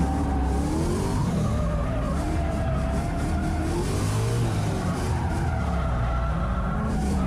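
A car drifting on a track, tires skidding and squealing in long wavering tones over a continuous engine roar, loud and close with no talk.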